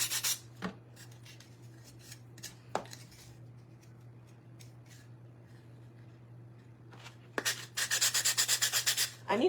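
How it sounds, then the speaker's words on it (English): Hand sanding on a canvas craft project, a few short scattered rubbing strokes early on, then a quiet stretch with low hum, ending in a close run of quick rhythmic sanding strokes. "so we're just sanding this down to kind of help make it even."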